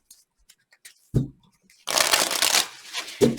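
Tarot cards being shuffled by hand, a few soft taps and clicks followed by a rapid riffling burst and another short shuffle, close and fairly quiet, with no talking.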